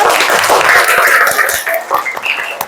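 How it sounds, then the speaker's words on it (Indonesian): Classroom applause as students are praised for their presentations: dense, steady clapping from a group held at an even level, thinning slightly toward the end. "Tepuk tangan buat kalian semua."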